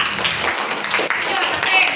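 A classroom of students claps for a classmate named Keisha, a dense, steady patter of many hands that holds for about two seconds, with murmured voices mixed into the noise.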